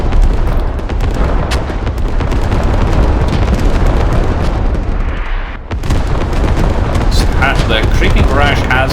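Continuous artillery barrage with dense overlapping booms and rumbling explosions in the tactical shooter Squad, loud and sustained for the whole stretch with a brief dip midway, while a voice talks over it.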